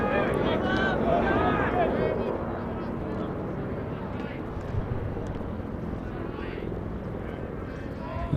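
Helicopter passing overhead at a boys lacrosse game, a broad steady rotor roar that is loudest at the start and then levels off, with people talking over it.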